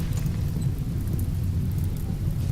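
Steady rain hisses in the video game RimWorld as it falls on a burning fire, a dense, continuous low rumbling wash with no breaks and no talk.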